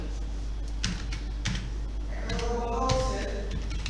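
Several key presses on a computer keyboard, typed in irregular bursts at close range, with a low steady hum throughout and some faint background activity toward the end.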